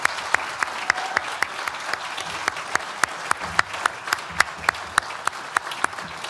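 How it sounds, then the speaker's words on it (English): Graduation-ceremony audience at Nottingham Business School applauds, a moderate crowd wash punctuated by sharp, regularly spaced loud claps from one nearby person, with no talking. "So let's give them a proper round of applause."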